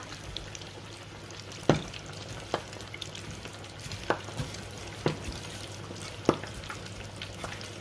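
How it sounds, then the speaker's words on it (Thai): Chicken drumsticks deep frying three at a time in hot oil: a constant soft sizzle broken by sharp crackles and pops every second or so, heard alone and fairly close. "ทอดเทีละ3 ขา"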